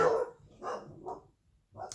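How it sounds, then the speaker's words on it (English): A nervous dog barks indoors at someone walking down a nearby pathway, with several sharp barks in short bursts separated by brief pauses. "That's my dog having a nervous breakdown because somebody's walked down a pathway."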